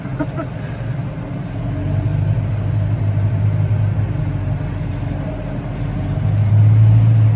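A Massey Ferguson 6S.155 tractor drags an Ermak 4.5 m laser land leveller across wet, soft field ground. Its engine gives a steady, loud, low rumble that swells slightly toward the end.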